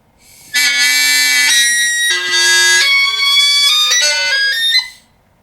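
A reedy, buzzing bagpipe chanter reed played in a practice chanter gives a slow run of sustained notes, bright and nasal, with short breaks between phrases before stopping.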